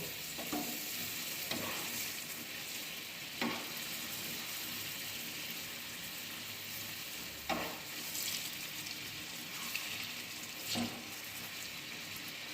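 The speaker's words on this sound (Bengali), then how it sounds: "এইভাবে প্রতিটা বড়া আমরা ভেজে নেব।" Lentil fritters for dahi vada deep-frying in hot oil, a steady soft sizzle and crackle running throughout with occasional louder bubbling bursts and stirring knocks, no talking.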